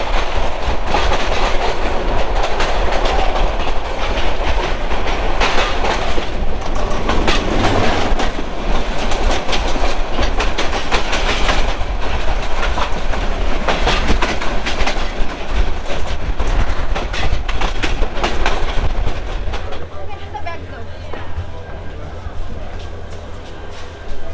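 The Jayantika Express from Dhaka's Kamalapur station to Sylhet runs along the rails with a loud, continuous rumble and rhythmic clickety-clack of the wheels, heard close up from onboard, easing slightly near the end.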